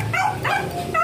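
A dog gives a couple of short, close, whiny yips and bow-wows in quick succession, close-up and moderately loud, heard outdoors beside a small home shop.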